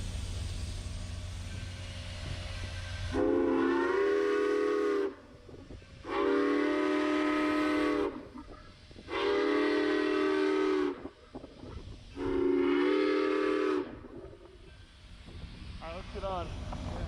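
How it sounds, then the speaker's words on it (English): A Grand Canyon Railway steam locomotive blows its whistle in four long blasts with short gaps between them, loud over the low rumble of the train, and people talk faintly in the background. "The Grand Canyon Railway usually operates one of its steam engines on the first Saturday of every month."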